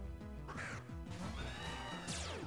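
A bird Pokémon caws in battle in the game Pokémon The New Order, harsh synthesized squawks and crashing attack effects in a short, loud, busy burst of game audio with no talk.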